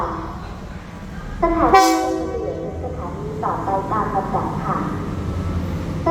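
Ordinary passenger train 262 at Ban Pong station in Thailand sounds a loud, close horn blast, then its railcars rumble on. Voices carry faintly in the background.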